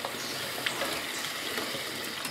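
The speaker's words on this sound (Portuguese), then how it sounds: "Vou colocar um pouquinho de água para poder cozinhar" Water is poured into a cooking pot in a rural farmhouse kitchen before free-range chicken with okra is cooked. It makes a soft, steady gushing hiss at low volume, with no voices.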